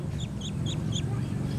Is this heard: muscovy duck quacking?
yes